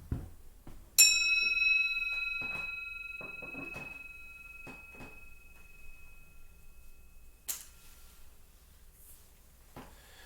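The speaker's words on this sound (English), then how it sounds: "I'm going to ring the bell." A single bell struck once rings out clearly with a long, fading tone, followed by quiet knocks and a second sharper strike later.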